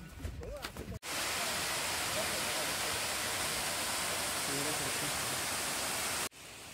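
Steady, loud broadband rush of a waterfall beside a ghat road in the Madhe Ghat area, surging in abruptly and holding constant for several seconds before cutting off, with a few indistinct sounds before it.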